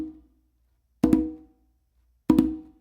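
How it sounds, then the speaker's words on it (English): Two conga flams ring out, each made of two open tones struck close together, the non-dominant hand landing first. The pairs are about a second and a quarter apart, loud and close, and each has a short ringing decay with no talking. "it's going to be an open with your non-dominant hand on the conga, and then an open with your dominant hand on the conga"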